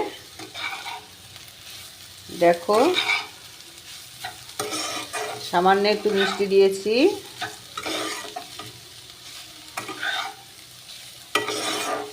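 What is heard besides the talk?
stir-frying banana stem (thor) in a pan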